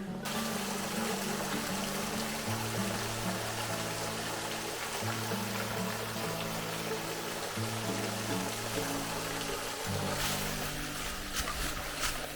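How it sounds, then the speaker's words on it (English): A small waterfall on a Missouri trail rushes in a steady, full hiss of falling water, with a low droning tone running beneath it. "It's a nice little waterfall right here."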